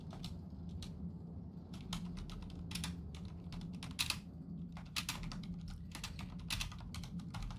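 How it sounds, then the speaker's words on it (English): Steady, quiet clicking of keys on a computer keyboard, fast irregular taps over a low background hum. "Not me typing down the name I just made up so that I can remember it."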